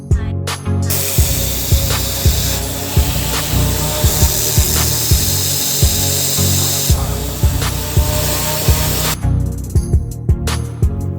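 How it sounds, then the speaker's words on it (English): An angle grinder grinds off the peened-over head of a pin on an old hand saw, a loud, continuous metallic whine with steady rhythmic pulses, running for most of the stretch before cutting off near the end. "It looks like they peened it over, so we're gonna have to grind that off."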